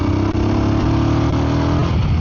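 Guerrilla 450 motorcycle engine pulling at low speed in third gear, a steady, loud, close mid-pitched drone with no pauses.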